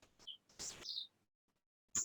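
Birds chirp outside on a quiet evening, with a few short bright calls and a burst of twittering, then near-silence before one more sharp chirp at the end.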